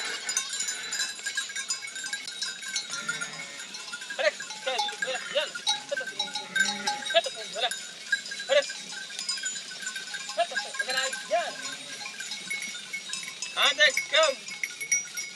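A herd of farm animals wearing bells wandering around a parked camper, with bells clinking and clanking continuously at close range and occasional bleats mixed in.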